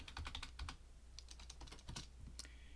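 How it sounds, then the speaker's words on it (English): Quick keystrokes on a computer keyboard while entering a path in Windows 11: a short, close run of crisp clicks, with a few separate taps after a brief pause. Nobody speaks. "type Explorer"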